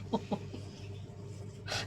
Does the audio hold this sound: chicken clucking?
yes